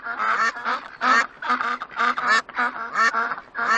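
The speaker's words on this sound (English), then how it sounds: "A family of ducks" Several ducks quack in quick, rhythmic bursts, loud and close, their honking calls tumbling over one another.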